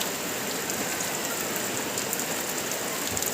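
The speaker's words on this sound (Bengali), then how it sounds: "বিরাট বৃষ্টি হচ্ছে" A downpour keeps up a constant broadband roar of drops hitting surfaces nearby, unbroken and loud throughout, with no one speaking.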